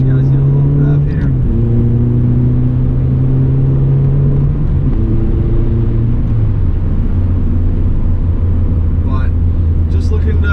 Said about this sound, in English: I'll let you guys get a little rev here.